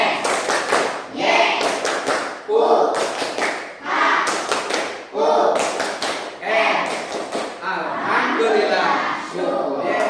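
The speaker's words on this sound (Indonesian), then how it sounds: "kita tepuk tangan dulu dengan tepuk syukur" Children perform the tepuk syukur clapping routine in a classroom, rhythmic bursts of claps alternating with chanted words, repeating in several near, loud rounds.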